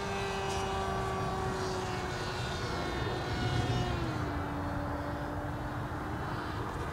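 A steady, droning whine from a Grayson Hobby Monster Jet RC model jet in flight, with its motor tone gently sliding in pitch as it circles at a distance under constant wind-like noise.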